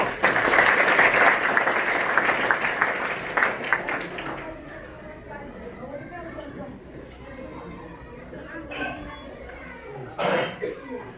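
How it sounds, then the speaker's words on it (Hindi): An audience at a school founders' event in Mokalpur, Madiyahun, Jaunpur, claps loudly at first, then the applause thins out, with coughs and scattered voices following. "एक बार ताली बजा लीजिए आपने।"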